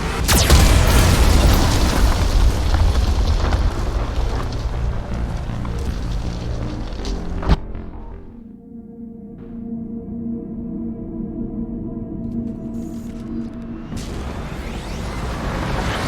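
A Geth cannon in the Mass Effect 2 game fires a heavy booming blast with a sharp crack, then a low rumbling decay and mechanical hum before another swelling burst; loud and close, with no speech.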